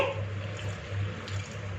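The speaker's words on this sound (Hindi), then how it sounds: "थोड़ा सा पानी मज़ीद डालेंगे" Water trickling and splashing into stiff namak pare dough in a mixing bowl, a short, steady, close pour.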